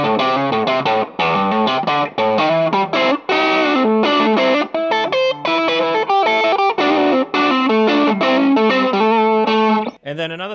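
Electric guitar with a blues tone playing quick bluesy phrases of bent and sliding notes through a slightly driven amp, loud and close, with a brief voice at the very end.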